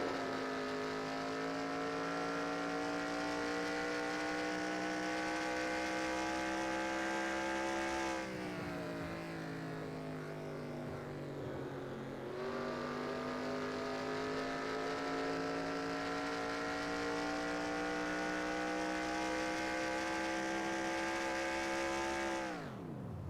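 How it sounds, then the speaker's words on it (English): V6 race car engines in the NASCAR Racing 2003 video game, Grand National Series at Phoenix: a continuous high, harmonic engine whine that drops in pitch twice, then climbs again before cutting off abruptly at the end. "how unusual is it hearing V6 engines instead of the V8s going?"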